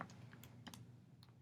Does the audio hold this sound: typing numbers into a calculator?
yes